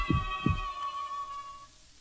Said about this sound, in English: But for many minutes, the heart beat on.